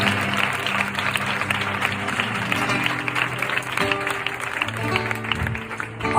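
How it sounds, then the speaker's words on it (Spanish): A church congregation applauds joyfully during a sermon, steady clapping with scattered voices mixed in and music or singing tones running underneath. "Sigue el aplauso para Dios con alegría."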